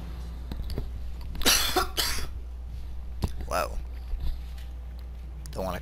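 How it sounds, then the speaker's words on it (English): A man coughs and clears his throat a few times at close range during a Skyrim gaming session, with harsh bursts over a low steady hum and some speech-like noise around them. "Cough in your ear"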